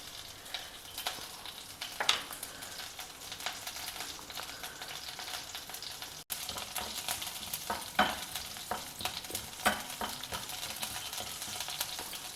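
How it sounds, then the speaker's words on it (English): Mustard seeds, urad dal and green chilli frying in a tablespoon of hot oil in a pan, a soft continuous sizzle with scattered pops and crackles, close and fairly quiet, with no talk. "Just heat a tablespoon of oil in a pan. Add some mustard seeds, urad dal,"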